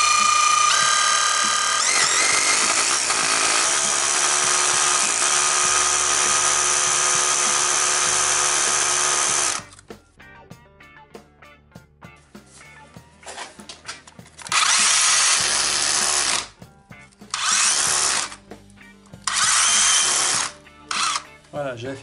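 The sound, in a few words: cordless drill drilling holes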